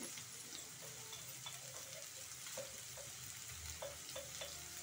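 Vegetables frying in a pan for vegetable rava idli, a faint steady sizzle with a series of light, regular taps of a spoon stirring against the pan.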